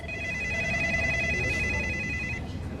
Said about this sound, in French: Les téléphones du cabinet d'avocats n'arrêtaient pas de sonner.